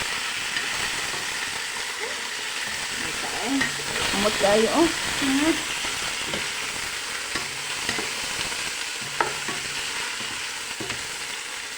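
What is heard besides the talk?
pork frying and being stirred in a pot for pininyahang baboy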